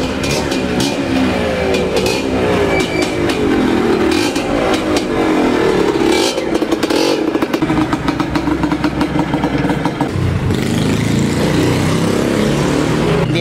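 A Yamaha DT125 two-stroke motorcycle under restoration runs loudly and close up, its engine buzzing continuously with rattling, clattery blips of throttle and a steady idle toward the end.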